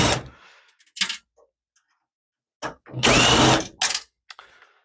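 Screws being backed out of a hard drive mount inside a Dell Inspiron 3847 desktop, giving short close metallic ratcheting and scraping bursts separated by quiet gaps, with one longer, louder run of clicks near the end.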